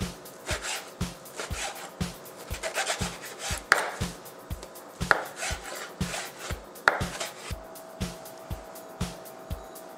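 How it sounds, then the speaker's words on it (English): A knife dices pork into small pieces on a cutting board in a steady run of sharp, evenly spaced chops, each one close and distinct, with faint background noise and no talking. "To prepare the meat, just dice the pork in small pieces."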